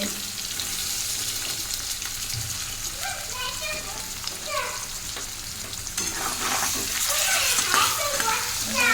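Katla fish frying in a pan, a steady bright sizzle running throughout with occasional stirring and clatter, while people talk over it.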